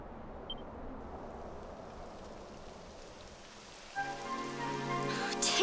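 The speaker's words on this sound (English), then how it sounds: "It would have to go and start raining, wouldn't it?" Rain in the Dragon Quest XI role-playing game, a soft continuous hiss of falling drops on the ground, quiet and even, with a brighter musical sting of game sound rising toward the end.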